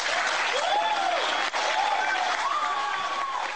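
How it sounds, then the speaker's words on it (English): Audience applause at the Winter Soldier hearings as a former Marine throws his medals into the crowd, loud sustained clapping throughout, with cheering voices rising and falling over it. "throwing them into the audience to the applause of attendees at Winter Soldier"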